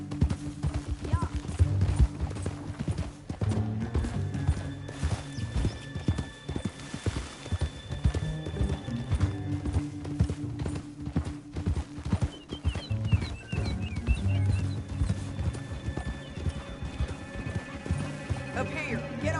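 Rhythmic clip-clop of horse hooves galloping continuously in Red Dead Redemption 2, mixed with game music and occasional whinnies; no one speaks.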